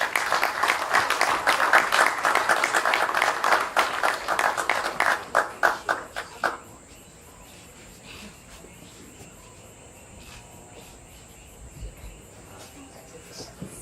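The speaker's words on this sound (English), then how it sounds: "Please applaud Inspector Butler" An audience at a security services regional recognition awards ceremony applauds an inspector with dense, steady clapping that thins into scattered individual claps and stops after about six seconds, leaving a quiet hall.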